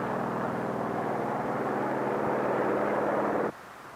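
Propeller aircraft engines drone loudly and steadily as control planes take off from an aircraft carrier, a broad continuous roar that cuts off abruptly near the end.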